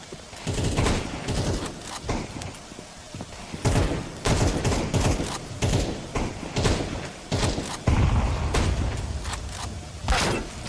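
Desert Eagle pistol shots in a video game, sharp heavy cracks fired in irregular clusters among other gunfire and thuds, loud and close, with no talk over them.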